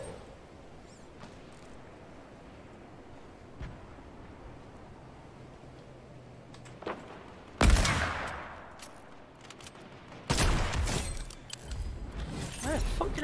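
Gunfire in the video game Fortnite: a quiet stretch of low game ambience, then two loud sudden bursts of shots, the second running on as a rapid volley toward the end.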